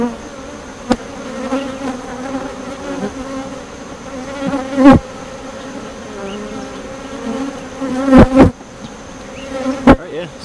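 Honeybees drone steadily around an open hive during a summer inspection, a close and continuous buzz broken by a few sharp clicks and knocks.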